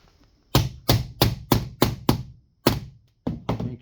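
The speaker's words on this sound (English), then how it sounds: "Again, another knock." Repeated knocks tap a part of a Slyder drawer flush into place during assembly: about eight sharp, close wooden thunks in an irregular rhythm, loud and alone, with a short pause before the last few.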